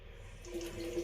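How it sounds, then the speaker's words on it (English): Cold, hard tap water runs from a faucet for a brief moment, a soft steady hiss with light splashing close by, as a shaving brush is dipped under it. "dip under the water, here under the tap"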